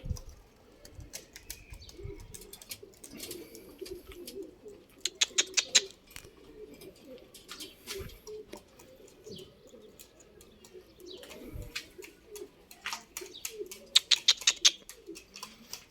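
Domestic pigeons gathered on a rooftop keep up a low, continuous cooing while two bursts of loud wing-flapping break out, with faint chirps scattered between.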